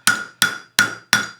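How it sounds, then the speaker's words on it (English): Four sharp, evenly spaced hammer blows ring out on a metal cuff bracelet shaped over a conical steel mandrel. Each strike is close and bright, with a short metallic decay and no talk. "I want to turn it and hammer from this side"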